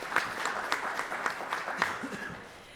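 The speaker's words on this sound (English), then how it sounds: "big round of applause for our esteemed panelists" An audience applauds panelists at a real estate and consumer behavior conference, a steady patter of claps at moderate distance that thins and fades toward the end, with no talk over it.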